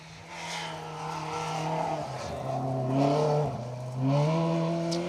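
A Toyota Corolla AE86 rally car with modern refinements, driving a stage at Rally North Wales, its engine droning and rising through gear changes as it revs hard at moderate distance, with no talking.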